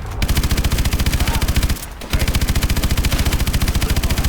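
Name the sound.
gunfire and missiles from video game Call of Duty: Advanced Warfare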